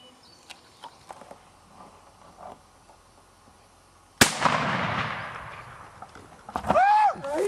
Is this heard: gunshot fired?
yes